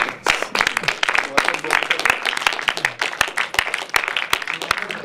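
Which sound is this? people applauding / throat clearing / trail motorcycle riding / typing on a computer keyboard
people applauding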